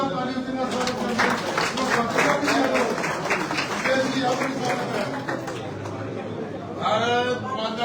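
A crowd at a Haryana BJP gathering claps to welcome a speaker, with dense, fast applause mixed with loud voices and chatter throughout.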